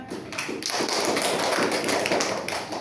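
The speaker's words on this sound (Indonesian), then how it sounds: "Beri aplaus dulu untuk teman-temannya." Students in a classroom applaud the presenting group with a dense, continuous burst of clapping from many hands. It is loud and close and lasts the whole stretch without talk.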